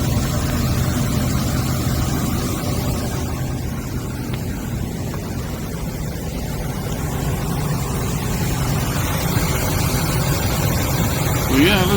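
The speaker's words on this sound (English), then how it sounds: "Yeah, this engine sounds just great. Look how smooth that thing is. No vibration, nothing. Just a smooth purr." Ford Super Duty 5.4 liter engine with newly installed headers and Y pipe, idling smoothly and steadily as a continuous low rumble throughout, close by, with a voice briefly heard.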